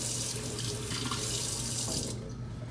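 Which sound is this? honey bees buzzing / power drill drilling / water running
water running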